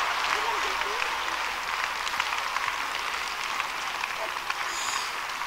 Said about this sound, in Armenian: ինչքան են ծափահարում, Միկա։